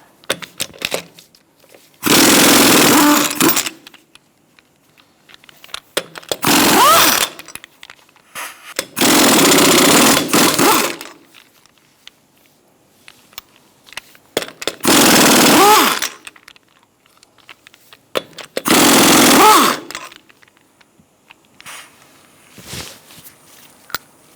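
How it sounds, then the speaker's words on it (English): A pneumatic impact wrench with a 21mm socket removes lug nuts from a 2002-2006 Toyota Camry front wheel, firing five loud rattling bursts of one to two seconds each, separated by quiet pauses with faint clinks and handling noises. "Using a 21mm socket, we're going to remove our lug nuts."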